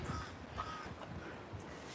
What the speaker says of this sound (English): Like a lot of baby bird noises coming from up in here in this crack.